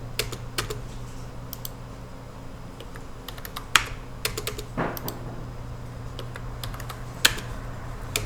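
Computer keyboard typing during AutoCAD 3D modelling work: sparse, irregular key clicks and a few sharper keystrokes, fairly close, over a steady low hum, with no talking.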